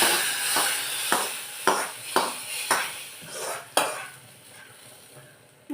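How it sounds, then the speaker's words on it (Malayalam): Fried coconut tempering is scooped into a pumpkin erissery curry, with a spoon or ladle scraping and tapping the pan in a series of sharp, irregular strikes over a soft sizzle, close and moderately loud. "ഇനി ആ വറുത്ത കോരി നമ്മൾ ഈ കറിക്കകത്തിരിക്കുകയാണ്"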